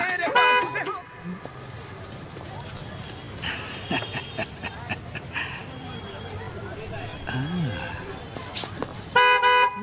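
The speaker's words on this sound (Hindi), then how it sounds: "रोड पे गाड़ी तो दिख नहीं रही, खामखा हॉर्न क्यों बजा रहे हो?" Car horn honks in short bursts at the start and end, loud and near, with traffic noise, a barking dog and people talking between them.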